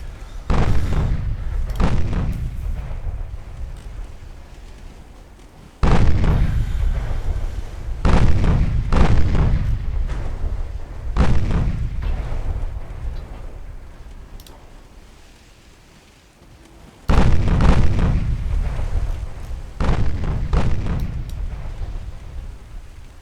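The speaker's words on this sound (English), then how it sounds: "They are firing back with their 4-inch guns" Naval 4-inch guns firing in the naval warfare game Ultimate Admiral Dreadnoughts: several heavy booming salvos, each with a sharp onset and a long rumbling decay, coming every few seconds with no voices over them.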